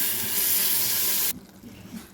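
Water poured into a pan of capsicum masala curry paste with oil, a steady close rushing splash that cuts off sharply, followed by quieter sizzling and stirring.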